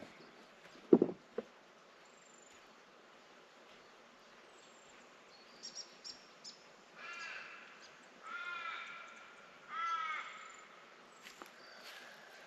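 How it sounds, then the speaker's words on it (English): Scattered bird calls sound in a quiet forest a few hours south of Perth, Australia: a sharp caw early on, then a few soft chirps and warbling calls, faint and spaced apart. "The birds are flittering about"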